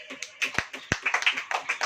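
A church congregation claps hands during a sermon, sharp close claps falling in a quick, uneven rhythm with a couple of louder hits, while a voice talks underneath.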